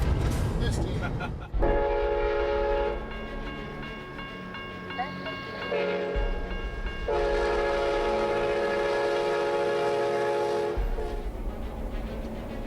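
Heavy freight train rolling along the tracks, a loud sustained horn blowing in two long blasts over the rumble of the moving cars.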